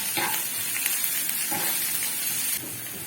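Ginger slices and green chilies frying in hot oil for a tempering over white daal mash, a close, continuous bright sizzle with a few soft stirring scrapes.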